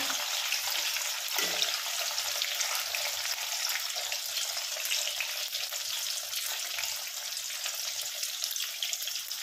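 Paneer fries in oil with a dense, even, close-up hiss that holds steady throughout, like rushing water, with no voices.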